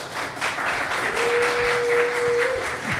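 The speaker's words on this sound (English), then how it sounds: "Give it up to Jeff Kennedy" Audience applauding a guest in the crowd at a live socialist talk event, a steady wash of clapping throughout with a sustained tone running underneath.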